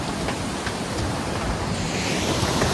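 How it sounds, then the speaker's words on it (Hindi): A waterfall on a mountain trekking route roars as a loud, steady broadband rush of falling water. It is close and continuous with no pauses or voices. "बहुत ही अच्छा वाटरफॉल है यहाँ पर, कितना प्यारा झरना है भाई"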